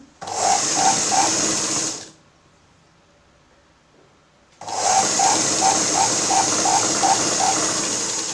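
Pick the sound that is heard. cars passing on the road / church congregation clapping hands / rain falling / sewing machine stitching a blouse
sewing machine stitching a blouse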